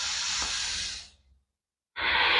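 Long, deep breaths during a yoga breathing exercise, a steady airy hiss that fades into silence, then a fresh breath starts abruptly, close and clear.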